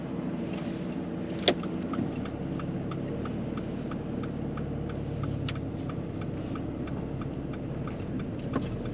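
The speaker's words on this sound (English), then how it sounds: "Let's start the car." A car engine idles steadily and low, with a regular ticking clicking over it throughout.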